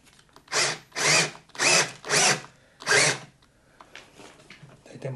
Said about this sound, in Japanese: 12ミリの穴を開けるようなので、一応12ミリの木工用のドリル用意したので、早速穴開けていきたいと思います。